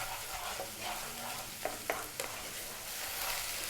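Garlic ginger paste frying in a pan on the stove gives a continuous close sizzle, broken by a few light clinks of a utensil against the pan.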